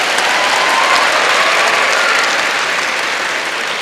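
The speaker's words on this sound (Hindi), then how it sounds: "तो लड़कों के लिए एक बार ताली" An audience at a motivational speech event applauds for the boys, a dense, loud wash of clapping sustained evenly throughout with no voices over it.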